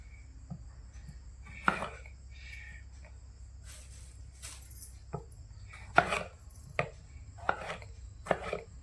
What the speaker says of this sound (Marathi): बिर्याणीसाठी टमाटे कापून घेते बारीक, लय बारीक पण नाही, लय मोठे पण नाही.